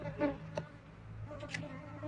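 Wild honeybees, including drones, buzz close by, a soft droning hum with a few louder passes as insects fly near, no voices.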